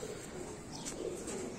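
A breeder pigeon at a fancier's home gives soft, low cooing at close range, faint over quiet background noise, with no voices.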